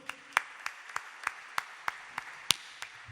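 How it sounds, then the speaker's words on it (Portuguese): A church congregation claps in a steady beat, about ten evenly spaced claps, fairly faint against a quiet background. "Vamos com nossas palmas."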